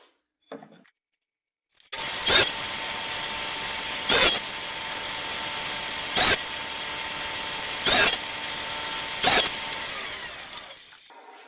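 Chop saw cutting wooden blocks, a loud continuous motor whine and cutting roar lasting about nine seconds, with five evenly spaced louder bursts as the blade bites, then winding down.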